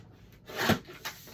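Scrapbook paper being trimmed: a couple of short, close scraping cuts, one fuller swipe followed by a smaller one, heard alone.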